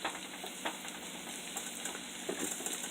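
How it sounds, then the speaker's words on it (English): Steady, quiet sizzling of onions frying in a pan, a constant hiss with occasional soft pops and crackles. "Okay, so that is sizzling in there."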